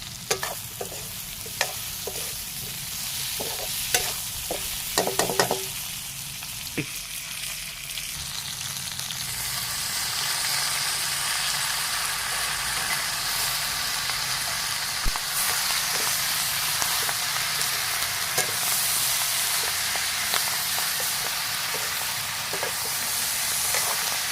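Kharua brinjals fry in a pan with a continuous soft sizzle and hiss, preceded by a few sharp clicks and taps at the start, with no talking.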